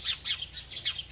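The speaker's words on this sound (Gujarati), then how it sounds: "ખાઓ ચકલાઓ ખાઓ" House sparrows chirp while being fed: quick, bright, high chirps, about six in a lively uneven rhythm, close by and fairly soft, with no talking.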